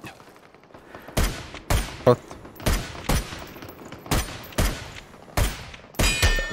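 Gunfire in the online shooter game Super People, a series of loud, sharp single shots spaced roughly half a second to a second apart, each with a short decaying tail, with a player's voice briefly heard.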